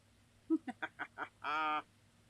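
Ducks at a pond give five short, quick quacks followed by one longer drawn-out call, close and clear in an otherwise quiet setting.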